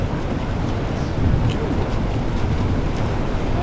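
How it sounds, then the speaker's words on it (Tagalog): Strong, blustery wind at sea roars across the microphone with a low rushing rumble, like open water, steady throughout with no voices. "Yan na, naglakas ang hangin."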